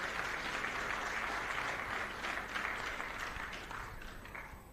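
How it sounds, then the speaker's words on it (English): Audience applause at an opening-remarks and impact report launch event, steady dense clapping that fills the room and holds for several seconds before tapering slightly, no speech over it. "So if we can clap for him."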